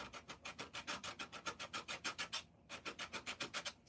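A tool scrapes rapidly back and forth across watercolor paper, a close, even series of about twenty rasping strokes with one brief pause, no talking.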